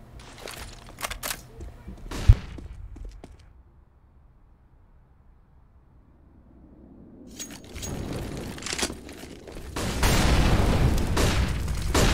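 Gunfire and explosions from a first-person shooter esports playoff match crackle in bursts with sharp single shots and a heavy boom, going quiet midway, then building into dense loud fire under a caster's commentary.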